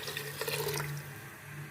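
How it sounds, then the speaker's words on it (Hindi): Warm water poured from a jug into a pot of beef karahi, a soft steady splashing and trickling that tapers off after about a second, faint and close. "यहाँ पर 1 जग हमने नीम गर्म पानी ले लिया,"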